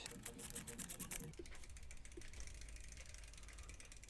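A ratchet clicks rapidly as it turns a 10mm socket during a 450W 36V DIY e-bike kit build, a quick run of close, crisp pawl clicks that gives way to quieter handling noise.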